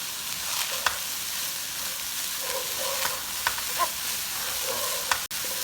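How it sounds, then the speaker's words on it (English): Onions cooking in a pan give a steady, even sizzle, with a few light clinks of stirring and no talking. "Now we just want to cook this until the onions become completely translucent"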